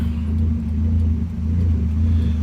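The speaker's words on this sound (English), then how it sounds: "Yeah, it's loud. I still want to do some exhaust, but just for a quick ride, let you know this Kia motor's working" A Kia truck engine rumbles steadily and loud while driving, a low continuous drone with a slight dip midway and no voices.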